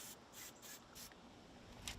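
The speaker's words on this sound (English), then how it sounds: "Yeah, just give it a little spray." Corrosion Block is sprayed onto a boat engine in several short bursts, four or five quick faint aerosol hisses in a loose rhythm, close but quiet, with no talk.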